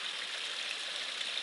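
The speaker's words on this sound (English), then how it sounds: "It's one of those only when it rains waterfalls." Small rain-fed waterfall in Shenandoah National Park, a steady, even hiss of falling and splashing water, close and continuous for a brief moment with no voices.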